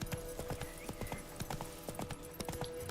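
Horse hooves in The Witcher 3 video game, a steady rhythmic clip-clop of a gallop, close and continuous, with a brief whinny-like tone over game ambience.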